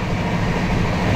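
Interior of a moving passenger train on the Howrah to Prayagraj route, a loud steady low rumble of carriage and wheels on rails, continuous and close, no voices.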